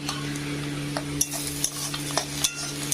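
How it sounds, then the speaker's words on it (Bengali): Bhituli frying in plenty of oil with spinach and egg, a close, continuous sizzle broken by several sharp spatula scrapes and taps against the pan. "এই ভিটুলি ভাজাটা কিন্তু আমি বলছি তেল দিয়ে বেশি করে ভালো করে ভাজবে"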